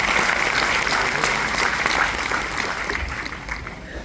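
Dense, steady applause from an audience at a network marketing talk, continuous and fairly loud throughout, easing slightly toward the end.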